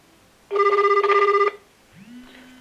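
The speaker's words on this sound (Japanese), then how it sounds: "こんな感じですね、電話が来ます。" An OPPO Reno3A smartphone rings with an incoming call: one loud, close burst of rapidly pulsing electronic ring lasting about a second, then a short rising tone and quiet room hiss.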